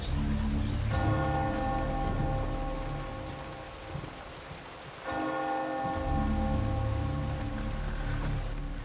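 A church bell tolls in the GameCube game Eternal Darkness: Sanity's Requiem, two long resonant strikes about four seconds apart, each ringing out and decaying over a steady bed of rain.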